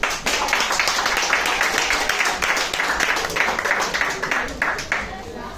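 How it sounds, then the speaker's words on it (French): Audience applause at a talk on whales and dolphins, steady clapping with distinct individual claps that carries on at even strength before tapering slightly at the end. "Je vais vous demander d'applaudir."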